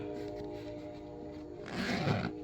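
A zipper pulled open on a bag inside an abandoned storage unit, one brief rasping zip close by against a quiet, humming background.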